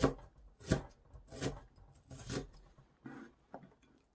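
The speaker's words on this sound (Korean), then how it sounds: "쪽파는 이 머리 부분을 이렇게 좀 잘라주세요." A knife chops the heads off green onions on a cutting board, making about five soft, separate taps at an uneven pace, quiet and close.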